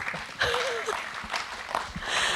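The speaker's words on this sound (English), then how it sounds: "Please give a round of applause for yourself." An audience gives a round of applause at a speaker series event, steady clapping spread across the room with some voices mixed in.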